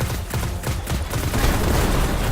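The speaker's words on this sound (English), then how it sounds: "Oh, I'm using the auto rifle." A dense, continuous burst of rapid fire from the Suros auto rifle in Destiny 2, loud and close, its shots blurring into a sustained rattling roar with no pauses and no talk.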